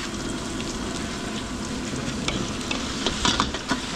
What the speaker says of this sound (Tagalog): bawang sibuyas, gigisa muna natin